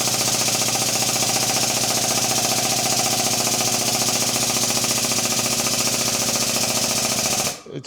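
An air-powered shop press runs on compressed air, giving a loud, continuous rapid hammering rattle that holds steady for about seven and a half seconds and then cuts off abruptly.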